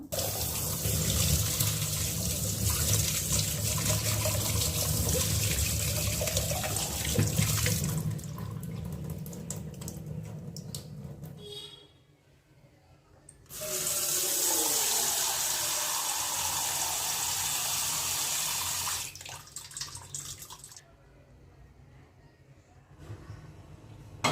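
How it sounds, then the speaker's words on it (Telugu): Kitchen tap water running hard while a baby's milk bottle is washed, a loud continuous rushing stream that stops briefly twice, with faint splashing and handling noises between. "ఇప్పుడు తన పాల బాటిల్ కడుగుతుంటే"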